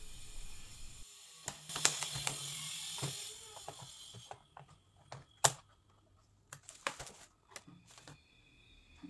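Keys clatter on a Sony VAIO E Series laptop (SVE15113EN) with a newly replaced keyboard, sounding in quick irregular bursts of clicks and taps with short pauses between them. The typing is close and fairly quiet, and no one speaks.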